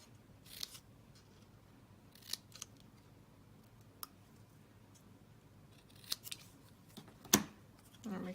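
Scissors cutting paper for a handmade Christmas elf gift card holder, a few separate crisp snips spaced out over quiet room tone, close and fairly soft.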